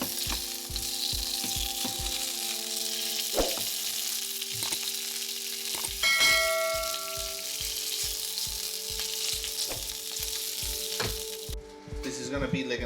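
A flipped keto Italian-style sandwich with tomato and avocado sizzles steadily in a frying pan, a close, constant crackling hiss with a few light utensil clinks and no voices.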